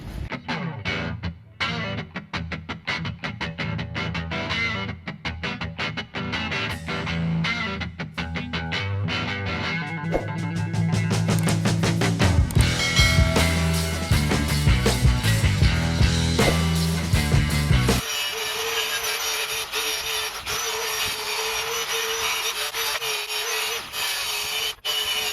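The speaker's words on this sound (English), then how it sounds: "the grinder is doing pretty good, taking this top layer of rust off" Grinder removing the top layer of rust from metal, heard as continuous harsh rasping and scraping with rapid repeated strokes that shifts into a steadier high whine, close and loud, with no talk.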